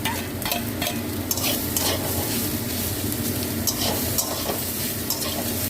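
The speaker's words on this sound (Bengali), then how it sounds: "এবার পেঁয়াজ ভাজাটা দিয়ে নেড়ে আমি তুলে নেবো।" Fried bitter gourd and fried onions stirred in a hot pan: a steady, close oily sizzle with the scrape and clatter of a spatula moving the slices, and no voices.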